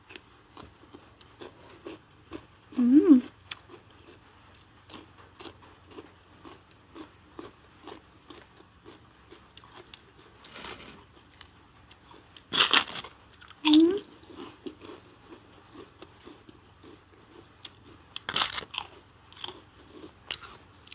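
Crispy shrimp crackers are eaten close to the mic: sparse sharp crunches and chewing clicks with a few louder bursts of biting, quiet between bites.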